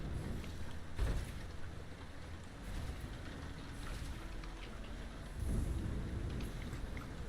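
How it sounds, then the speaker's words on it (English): Steady rain pattering in the video game Lightyear Frontier, a continuous broadband wash with gusty swells near the start and around the five-second mark, ambient and unbroken with no voices. "I'm digging the rain sounds."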